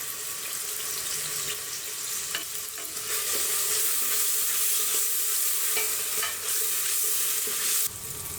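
Sliced onions and crushed black pepper sauté in a pan for chicken kabsa, giving a continuous close sizzle with watery hiss and stirring scrapes, steady throughout with a brief clack near the end.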